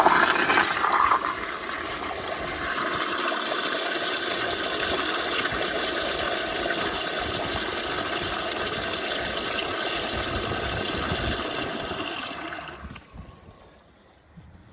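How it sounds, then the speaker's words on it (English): A Toto CT705 pressure-assist toilet gives a loud, forceful whooshing flush that holds strong and steady for about twelve seconds, then tapers into a quieter trickle as the tank refills. "The pressure assist toilet can be used on residential and commercial use"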